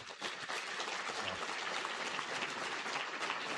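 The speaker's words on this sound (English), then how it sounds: "please, round of applause just on that side" Sustained applause from a storm chaser hall of fame audience, steady clapping throughout at an even, fairly loud level with no speech over it.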